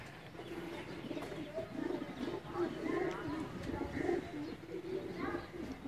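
Lakha and Badshah breed pigeons coo in soft, repeated low rolls under a steady murmur of background noise and voices.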